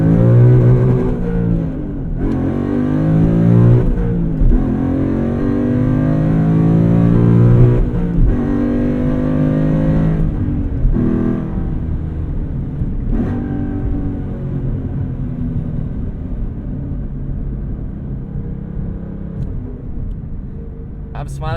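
A 2012 Ford Mustang Boss 302 V8 with manual clutch accelerating through the gears, a loud throaty engine note rising in pitch repeatedly with shift breaks, then settling into a steady cruising rumble.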